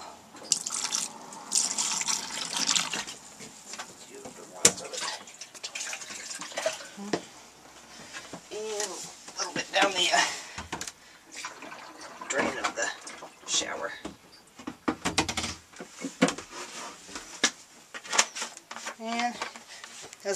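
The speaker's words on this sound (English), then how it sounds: "pour some in the toilet" RV camper toilet being filled with poured liquid during winterizing, with intermittent splashing and trickling close up and a person talking in between.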